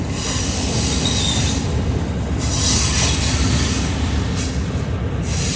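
The Wilmington & Western Doodlebug railcar rolls on rails through a residential right-of-way, with a continuous loud rumble of wheels and a high metallic squeal that swells and fades several times.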